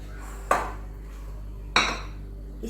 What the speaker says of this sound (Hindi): मैं इसमें चिकन डालूंगी।